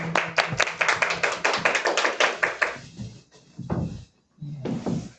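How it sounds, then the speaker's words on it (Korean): A church congregation claps together in a rhythmic burst during an Easter Sunday service, the applause loud and close before thinning out, followed by a few scattered short bursts of clapping. "하나님 영광의 박수."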